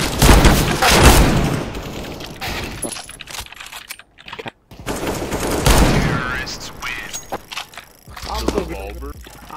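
Rapid gunfire from the shooter game CS:GO crackles in bursts beneath excited talk from several players, with keyboard clicking mixed in and brief pauses between volleys.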